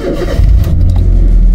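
A 2010 Toyota Rush with a racing exhaust revs loud and close, its deep booming engine note swelling and holding as the throttle opens.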